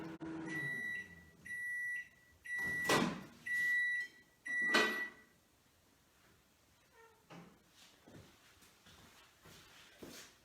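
A microwave oven baking chocolate cake in a silicone mold gives a series of evenly spaced electronic beeps, followed by a couple of sharp door clunks and quieter handling noises.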